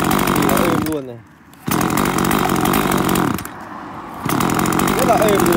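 Used Echo chainsaw engine running smoothly at idle and revving, a loud close buzzing two-stroke drone that dips twice before picking back up, with someone talking over it.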